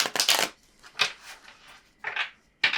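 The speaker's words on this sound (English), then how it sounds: "I'm gonna shuffle one more time." Tarot cards being shuffled by hand in several short riffling bursts, loud and close, with brief pauses between them and no talking.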